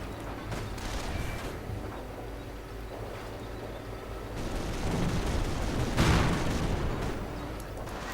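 Gunfire and flak rounds crackle through a video game tank battle, dense, overlapping bursts and booms rumbling continuously, swelling louder toward the end.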